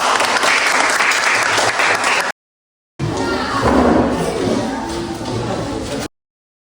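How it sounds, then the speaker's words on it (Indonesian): Classmates give a round of applause for a student group in a classroom: steady dense clapping, loud and close, broken by a short gap before a second burst. "berikan tepuk tangan untuk kelompok 3"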